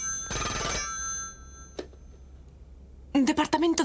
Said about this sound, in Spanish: Conecta el teléfono para el señor Grimm